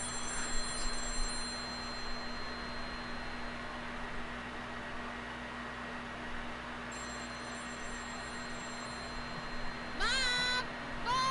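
A telephone rings inside the PS4 game Dreams, a steady electronic tone held over a low background hum, with a quick rising chirp near the end.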